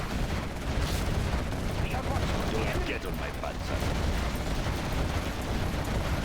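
Quad cannons firing in the Generals Zero Hour strategy game, a dense, continuous clatter of rapid gunfire and explosions mixed with battle noise, with a voice line heard over it.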